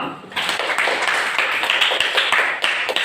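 An Indonesian class claps hands together in a room, a brisk round of many overlapping claps starting after a short pause and continuing evenly at fairly close range.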